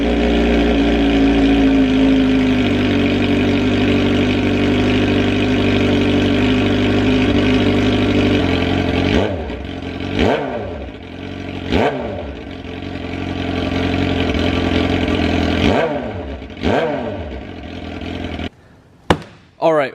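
A 2008 Suzuki GSX-R 750 sport bike engine idles steadily and close for about nine seconds, then cuts down to a series of sharp throttle blips with quieter gaps between them, ending in a few abrupt bursts.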